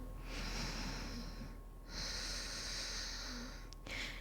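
Close breathing in a prenatal yoga class: two long hissing exhales separated by a brief pause, then a quick sniff and the start of another breath, heard alone over faint room hum.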